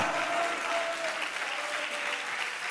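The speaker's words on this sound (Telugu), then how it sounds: "కొట్టు చప్పట్లు గట్టిగా" A church congregation at a Sunday worship service claps loudly and steadily together, a dense, continuous wall of applause that holds evenly throughout.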